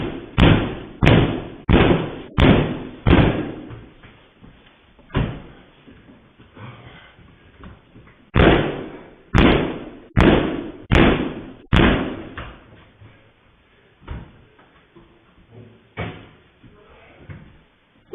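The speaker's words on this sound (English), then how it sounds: "He's kicking at the door trying to get into the studio." Repeated heavy kicks against a studio door, with loud thumping bangs in quick bursts of three to five, pauses between the volleys, and a faint background voice now and then.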